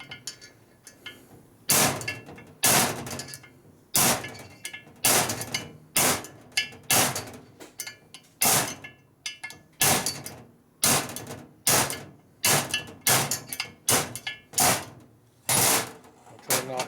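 Sharp metallic hammer hits ring out one after another in a workshop, knocking a part out of a 1977 Harley-Davidson XLCR 1000cc Ironhead Sportster motor during a rebuild, many light close taps at an uneven pace with quiet gaps between.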